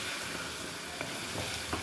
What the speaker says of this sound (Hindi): अच्छी तरह से ये सारी चीज़ों को भून लूँगी।